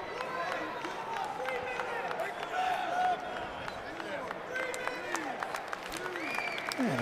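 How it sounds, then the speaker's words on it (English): Spectators at a Big Ten wrestling match between Wisconsin and Rutgers at 165 pounds keep up a steady roar of applause and crowd noise under continuous commentary, with occasional sharp claps and thuds. "And a crowd applause"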